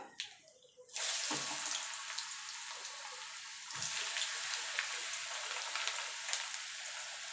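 Potatoes dropped into hot oil tempered with nigella seed for frying bottle gourd peel, bursting into a loud steady sizzle after a quiet start that swells further midway, with no talk.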